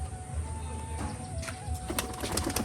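Pigeons coo softly and repeatedly, kept as fancy flying pigeons, heard under a steady mechanical hum with a few flutters and faint voices nearby.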